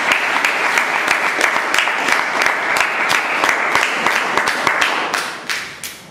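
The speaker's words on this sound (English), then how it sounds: "Let's give them an applause." Sustained audience applause at a Toastmasters meeting, many hands clapping densely and steadily at close range before tapering off near the end.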